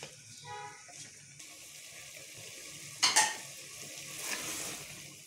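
Mutton masala cooking in a pot with yogurt added, a steady soft sizzle and frying hiss with brief scraping stirs and a sharper clatter near the middle, close and fairly quiet.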